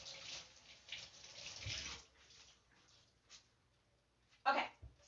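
A kitchen tap runs to wet a rag, a broad hiss of flowing water for about two seconds that then thins out. A sharp clatter follows near the end, and a voice is heard.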